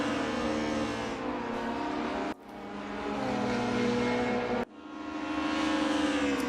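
A BMW race car in a sim racing game slides around a track, its engine droning loud and steady with rising revs, cut twice by abrupt gear-shift dips before climbing again.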